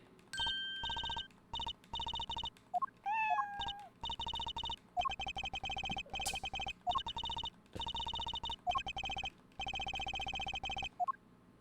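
Cat in the Apollo Justice video game, short high meows scattered over repeated game chimes and bleeps with gaps of silence, fairly quiet, no voices.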